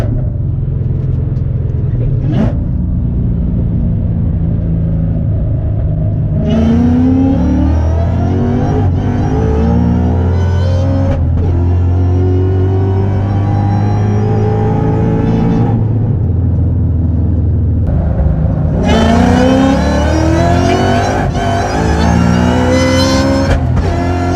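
A car engine revving up and settling back repeatedly, loud and close, with rising and falling engine tones over a steady low rumble.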